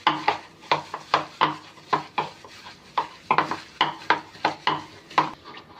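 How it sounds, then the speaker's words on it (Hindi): Chicken is mixed by hand with tikka masala and salt in a bowl, giving a steady run of rhythmic wet slaps and scrapes, close and moderately loud, with no talk. "अब हम इसे करेंगे मिक्स अच्छे से।"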